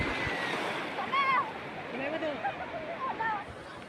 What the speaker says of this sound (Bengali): সোনু নতুন এসছে তো, তাই ও ঢেউ দেখে ভয়ে হচ্ছে, ছুটছে।